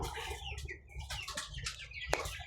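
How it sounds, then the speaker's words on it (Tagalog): Young chicks peep and cluck in a cluster of short, high, bright calls close to the microphone. They come in irregular bursts over a steady low hum. "meron ako ditong mga pahabol na sisiw guys"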